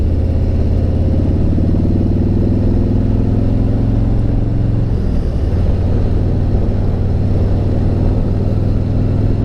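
A Harley-Davidson Road King motorcycle engine drones loudly and steadily up close, its exhaust thrumming with a brief shift in pitch partway through.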